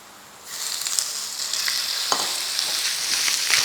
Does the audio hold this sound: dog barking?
no